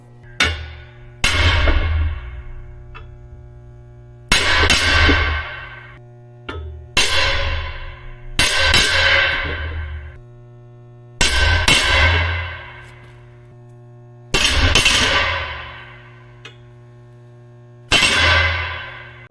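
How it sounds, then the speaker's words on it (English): Seven sharp metallic impacts ring out at irregular intervals as a punch marks holes in a metal plate, each a loud bang with a bright ringing decay, over a steady low hum. "Now I gotta punch them so I can drill them."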